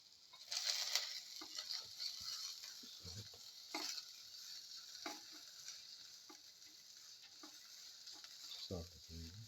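Chopped ginger sizzles in a hot pan for chicken soup, a steady hissing fry with occasional scraping stir sounds and light clatter, heard fairly close without talk.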